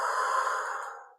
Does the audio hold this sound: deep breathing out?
yes